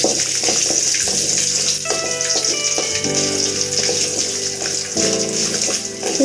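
Garlic and dried red chillies fry in a pan of oil for sundakkai vatha kuzhambu, with a constant bright sizzle and occasional light clinks and ringing pan tones over it.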